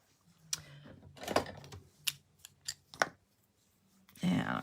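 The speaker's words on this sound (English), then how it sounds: "And let's get my scissors and trim this." Scissors trim craft material for a small cactus craft, giving several sharp, close snips spread out with pauses between them, then a longer rustle at the end.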